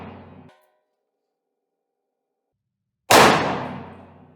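Revolver firing HSM cowboy load cartridges in a conversion cylinder: one sharp, loud close shot with a ringing decay, preceded by the tail of an earlier shot and a stretch of silence.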